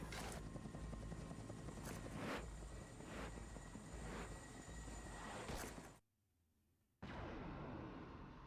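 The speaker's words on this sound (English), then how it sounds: "That's a UTIC helicopter." Video game UTIC helicopter, a rhythmic whirring rotor thump repeating steadily and loud, cutting out abruptly for about a second before resuming.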